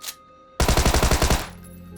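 A single full-auto burst from a weapon in PUBG: about ten rapid, evenly spaced loud shots over under a second, then a ringing tail fading into low background ambience.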